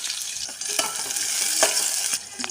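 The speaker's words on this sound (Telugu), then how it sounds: "ఇప్పుడు నూనె వేడెక్కింది కొద్దిగా ఆవాలు కొద్దిగా జీలకర్ర కొద్దిగా కరివేపాకు కట్ చేసి పెట్టుకున్న ఎర్రగడ్డలు" Onions fry in hot oil with mustard seeds, cumin and curry leaves, giving a close, steady sizzle broken by repeated scraping strokes of a spatula stirring the pan.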